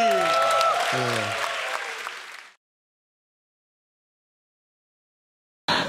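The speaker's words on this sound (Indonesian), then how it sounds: "tepuk tangan sekali lagi untuk Ari" An audience at a stand-up comedy show applauds comedian Ari. The loud clapping is mixed with voices and tonal sound, cuts off abruptly after about two and a half seconds into silence, then a brief burst returns at the end.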